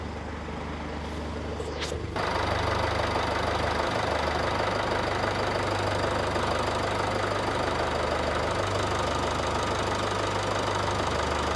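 A 2018 Mercedes GLC220d 4MATIC diesel engine idling with the hood open, a steady, loud, close diesel clatter after a brief click at the start, running evenly with no talk.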